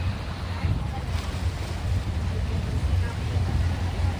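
A river tour boat churning through waves, giving a continuous rough wash of water and wind buffeting with a low engine rumble underneath, steady and close.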